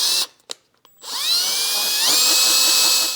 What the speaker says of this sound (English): we'll start small with a little drill bit